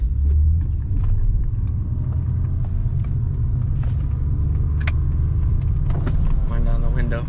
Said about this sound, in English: I'm gonna get you guys a pull in quick so you can hear sweet J series noise.